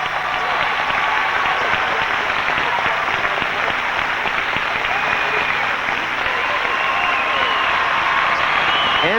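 A figure skating arena crowd at the 1989 World Championships ice dance event applauds loudly and continuously, a dense wash of clapping with cheering mixed in that never lets up.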